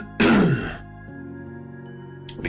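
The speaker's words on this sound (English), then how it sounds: "Be clearing my throat this whole time." A single loud, close throat clearing at the start, a short rough rasp that fades into quiet room tone, with a faint noise near the end.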